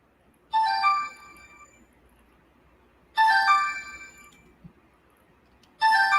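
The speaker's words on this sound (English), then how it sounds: "Getting a phone call, y'all." A phone ringtone for an incoming call plays as a bright chiming melody in three repeated bursts about every two and a half seconds, loud and clear over near silence.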